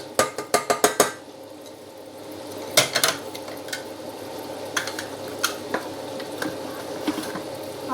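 Mixed vegetables with mustard seeds, turmeric and chillies being stir-fried in a pan, with a quick run of sharp utensil clinks against the pan early on, then softer sporadic scrapes and taps over a steady low sizzle.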